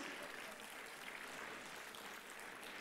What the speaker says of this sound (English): Shouldn't we give a big round of applause for this winning team of teachers?